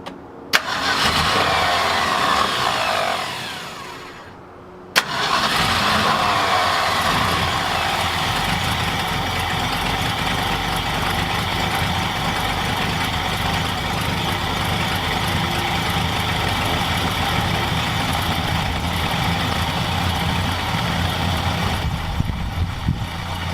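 A 1966 Ford F250 truck engine cranks, catches briefly and then starts, settling into a loud, steady idle that runs on without talk.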